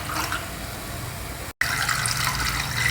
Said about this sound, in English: So I will just pour the water into this so that we can take out the remaining masala also.